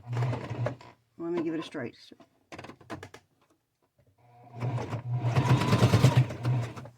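Sewing machine running in short bursts while stitching a flat iron cover with a pouch, the rapid mechanical whir coming and going between a woman's nearby speech.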